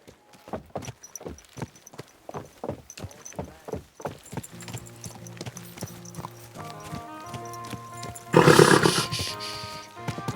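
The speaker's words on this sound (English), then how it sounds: "Watch out with that horse!" Horse hooves clopping at an even walking rhythm in Kingdom Come: Deliverance 2, clear and close at first, then fading under a rising musical score and a sudden loud burst of crowd or ambient noise near the end.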